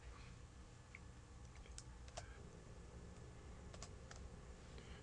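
Code being typed into the J programming language on a computer keyboard: sparse clusters of faint, sharp key clicks at close range over a steady low room hum.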